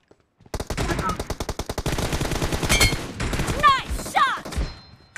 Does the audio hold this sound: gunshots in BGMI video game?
yes